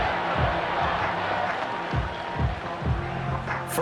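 Home crowd in a Madden NFL 25 stadium cheers and applauds steadily, a dense wash of voices at moderate loudness with brief swells and low thumps throughout.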